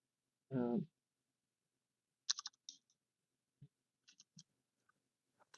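A few soft keyboard clicks tapped out in short, sparse bursts while a command is entered on a computer, quiet and close, after a brief spoken word at the start.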